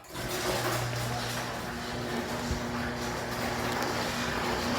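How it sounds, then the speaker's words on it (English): LiftMaster 1/3 HP screw-drive garage door opener running, a continuous loud motor hum and grinding drone with a steady tonal buzz, sustained for several seconds with no talk. "Pretty noisy for LiftMaster screwdriver."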